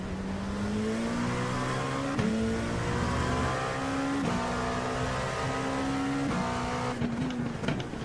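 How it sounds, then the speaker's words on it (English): An LMP2 prototype race car's engine in a racing video game at Talladega whines loud and constant, its pitch stepping up through quick gear shifts with a brief lift near the end. "And of course we have the LMP2, that is what I am piloting tonight."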